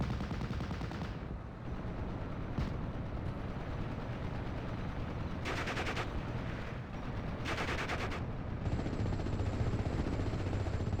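Sustained heavy gunfire and machine-gun bursts from a Ju-87 dive bomber strafing the area in the Kards card game, loud and continuous with sharper blasts punctuating the barrage.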